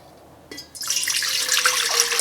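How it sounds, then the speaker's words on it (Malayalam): After a brief knock, water gushes steadily into a metal idli steamer pot, a loud, close, continuous pour. "ഇതിലേക്ക് ആവശ്യത്തിന് വെള്ളം ചേർക്കുക"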